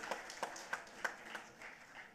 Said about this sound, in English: Ladies and gentlemen, can we please have a thundering round of applause for the ma'am?